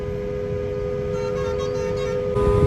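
Vehicle horns honking in Indian road traffic near a bus stand, a sustained loud horn blare with a second horn joining near the end, over engine rumble and without talk.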